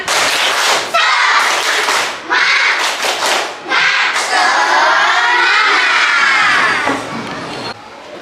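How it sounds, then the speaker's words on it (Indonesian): A class of children performs the Indonesian rhythmic clap-and-chant "tepuk semangat" in a classroom lesson. Their voices chant loudly together over short bursts of clapping, with brief pauses between phrases, and the chant winds down toward the end. "Ayo bersama-sama kita tepuk semangat."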